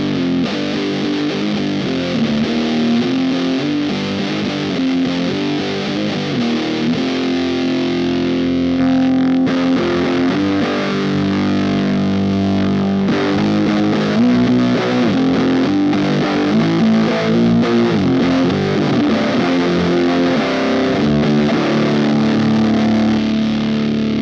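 Electric guitar driven through fuzz and overdrive pedals into a Titan amp, thick saturated distorted chords and riffs played continuously and loud, with no talking.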